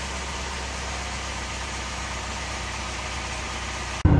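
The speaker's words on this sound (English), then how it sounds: "All right, there she is running." A 2008 Chevy Cobalt engine runs after a crankshaft installation, a steady even idle drone with low rumble held constant before an abrupt louder shift at the end.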